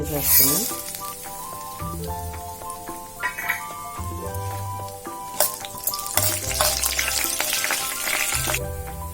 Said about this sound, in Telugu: ఇదిగోండి తాలింపు దినుసులు ఎగిపోయాయి